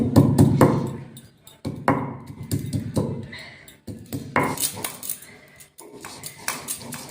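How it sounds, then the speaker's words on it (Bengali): Ginger being crushed for a pressure-cooker mutton curry, heard as a steady run of close, sharp pounding knocks of stone on stone with brief pauses between bursts. "ফার্স্ট থেতো করে নেবো আদাটাকে"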